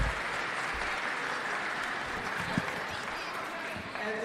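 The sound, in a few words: audience applause for students at a concert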